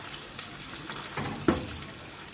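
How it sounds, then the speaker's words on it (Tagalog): Zucchini and meat frying together in a pan, a continuous close sizzle with scraping stirs and a sharp utensil knock near the end. "Para iluto ang aking kalabasa na may karne sa loob."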